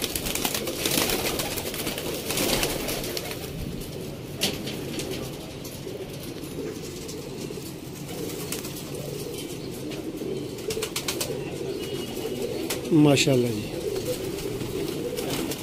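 Golden pigeons kept by a pigeon fancier in Sialkot coo in low, steady murmurs across the whole stretch, with a brief flutter of wings near the end and someone speaking briefly over them.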